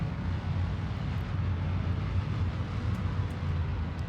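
A rocket engine in a Kerbal-style space game, throttled up as the craft comes in to land, gives a steady, fairly quiet broadband roar that holds even throughout with no break.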